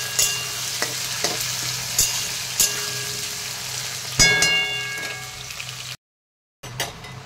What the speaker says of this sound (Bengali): তো আলুগুলোকে আমি আগে ভেজে নিচ্ছি।